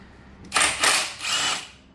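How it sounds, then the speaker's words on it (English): A small impact wrench works on a 1992 Subaru Legacy during a timing belt job, firing three short, loud whirring bursts close to the listener with brief gaps between them. "if I grab my little impact, it fits without the radiator or the condenser"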